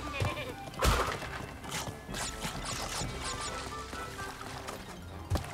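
A goat in Crash Bandicoot N. Sane Trilogy gives wavering bleats over game sounds and a thud or two, while someone talks over them.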